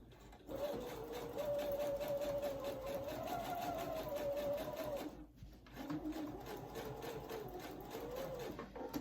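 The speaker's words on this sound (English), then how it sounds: "So I'm just going to sew around this corner." A sewing machine stitches quilt binding around a corner with a quarter-inch setting, a steady close mechanical whir with fast rhythmic needle pulses that halts briefly near the middle and then resumes.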